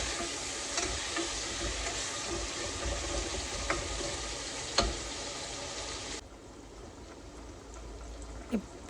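Chopped onions with a pinch of salt sizzle steadily in a pan for a Telangana-style sorrel leaf mutton curry. The frying is continuous and close, with a few stirring clicks, and it quietens slightly near the end.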